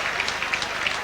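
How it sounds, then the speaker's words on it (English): Brief burst of applause from a studio audience for a guest on a Sunday sports show, steady clapping at moderate level with a few sharper claps standing out. "give Paul Lee a big round of applause"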